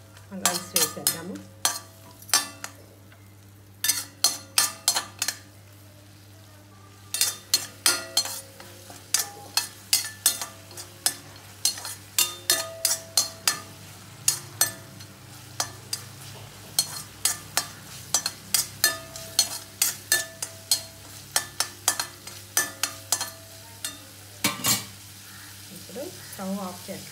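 Lemon rice seasoning fries in a pan while a spoon stirs and scrapes it in steady, repeated clattering strokes over a continuous close sizzle, with brief pauses between bursts of stirring.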